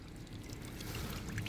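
Water draining out of a Honda Shadow 750 motorcycle during a coolant flush, a steady soft pouring trickle heard close up with no voices.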